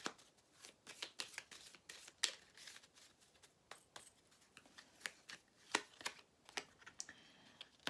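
Tarot cards shuffled close by, a quiet run of rapid riffling slaps and soft flicks in an irregular rhythm, with no one speaking.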